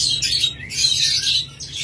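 Pet birds kept as breeding pairs chirp and squawk in quick, overlapping bursts, close and fairly loud, with no voices.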